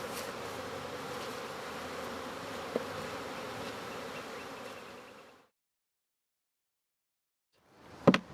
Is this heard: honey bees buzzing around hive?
yes